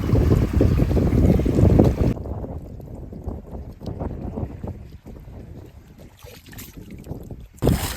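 Strong wind and rain buffet a boat midriver in the Sundarbans during hook fishing, loud rushing gusts and microphone wind noise up front, easing to a rough patter and water noise before another heavy gust.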